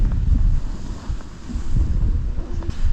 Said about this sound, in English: Look at those winds.